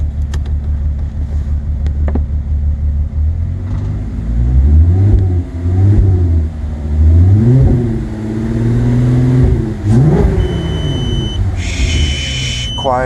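A Volkswagen Mk4 with a VR6 engine is revved repeatedly through its exhaust with a muffler fitted. The deep engine note climbs and falls in several swells, heard close and loud, with a faint beep near the end.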